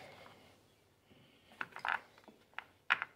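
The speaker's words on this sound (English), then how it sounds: "Get your bolts out." Small metallic clicks and ratcheting from a 2021 Suzuki KingQuad ATV as bolts are removed from its key switch panel, a few quick close bursts over quiet background.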